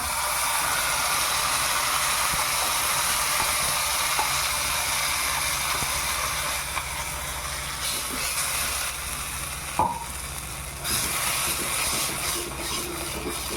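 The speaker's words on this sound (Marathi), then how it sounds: "हे आपल्या चटणीला आपण फोडणी दिली आहे बघा" Tempering of cumin and curry leaves sizzling for a chutney in a hot pan, a steady bright hiss that continues throughout with a few small pops, close and fairly loud, no talking.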